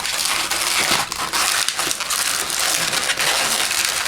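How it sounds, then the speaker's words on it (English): A latex balloon squeaks and rubs continuously as it is twisted into pinch twists for a rhinoceros balloon animal, a dense close-up crinkling with no pauses over about four seconds. "We're going to twist back up into these two pinch twists here."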